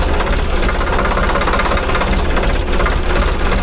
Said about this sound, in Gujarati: પહેલાં આ ટ્રેક્ટરનો અવાજ તમે સાંભળી લો